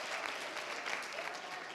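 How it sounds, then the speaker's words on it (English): Audience applause for a poster competition winner at a 2024 finals prize announcement, a steady, even wash of many hands clapping from start to finish with no voices over it. "A round of applause for her once again."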